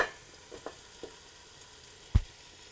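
Mini burgers topped with cheese sizzle faintly on a small grill pan under a cover, a soft steady frying hiss broken by a few small pops and one louder clack near the end, with no one talking.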